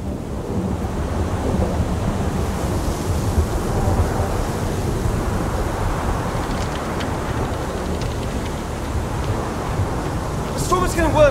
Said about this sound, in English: The storm is getting worse, Bruno.